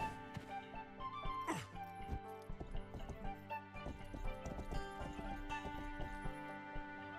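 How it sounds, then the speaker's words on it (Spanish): Horse hooves clip-clop in a fantasy video game, soft rhythmic steps under game music with a brief neigh, fairly quiet throughout. "¿Puedo coger el caballo?"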